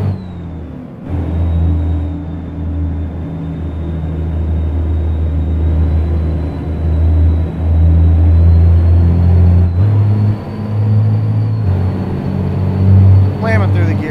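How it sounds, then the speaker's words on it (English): A heavy truck engine in the American Truck Simulator game drones with a loud, steady low rumble that builds slightly as it gets going, with a brief rising whine and occasional shifts in pitch. "Oh, this truck sounds so good."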